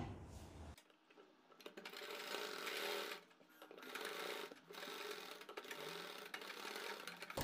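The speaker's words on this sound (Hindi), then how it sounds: "यहाँ से अपनी सिलाई शुरू करनी होगी।" An electric sewing machine stitches a suit piece onto a lace pattern, a fast whirring rattle running in long bursts with brief pauses, close and loud.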